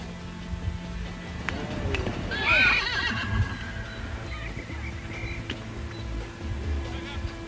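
Polo ponies whinny loudly once in the middle, with hoofbeats and movement sounds around it and a steady low background throughout. No one speaks.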